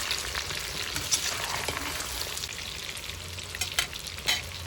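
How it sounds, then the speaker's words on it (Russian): Large chunks of onion and garlic frying in a kazan over a campfire, stirred with a utensil: continuous soft sizzle with occasional louder scrapes and knocks against the pot, moderately quiet and close, no voices. "Перемешиваем."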